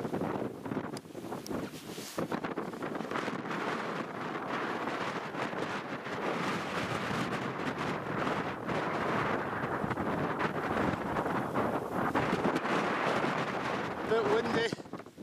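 Strong wind roars and buffets the microphone in a continuous rumbling gust, with muffled voices partly buried beneath it.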